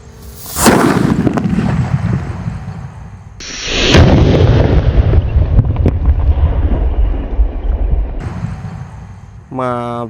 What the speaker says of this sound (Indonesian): Kalian bisa pakai mercon petir bosku untuk dibuntel dengan kertas.